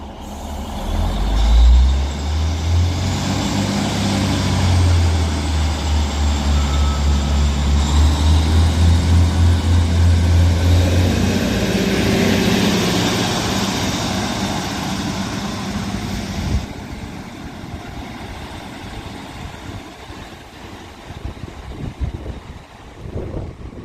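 Northern passenger train departing West Allerton station on the West Coast Main Line toward Liverpool Lime Street, a loud sustained diesel rumble with hissing brake air that fades after about sixteen seconds into quieter platform ambience.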